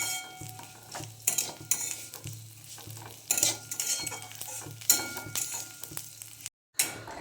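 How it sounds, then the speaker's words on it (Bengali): Vermicelli fries in ghee in a pan and is stirred with a utensil. A soft sizzle runs under repeated scraping and light metal clinks, with a brief silent gap near the end. "আমি সিমইটা একটু ঘি দিয়ে ভেজে নেবো লাল লাল করে"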